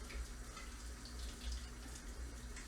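Sanitizing solution made with Campden tablets being poured into a 9-gallon glass carboy for homestead winemaking, a steady, faint rushing splash throughout with no talking.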